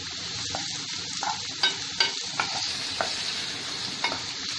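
Onion and finely chopped capsicum sauté on a tawa with a steady sizzle and periodic spatula scrapes and taps, several sharp strokes standing out above the frying.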